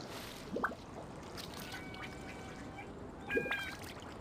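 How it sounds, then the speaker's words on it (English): Two short duck quacks from ducks in the video game Genshin Impact, one early and one near the end, set against a steady ambient background with faint chimes. "And now, with that being done, I can go kill those ducks!"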